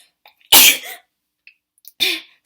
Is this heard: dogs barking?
no